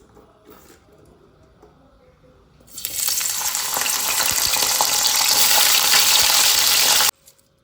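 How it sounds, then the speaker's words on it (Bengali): Whole spices, cinnamon and cardamom, crackle and sizzle loudly in hot oil in a home kitchen, starting abruptly after a quiet moment and holding a steady, dense frying hiss for about four seconds before cutting off. "দারচিনি এলাচ ফাটিয়ে দিয়েছি আর জৈত্রী দিয়ে দিলাম"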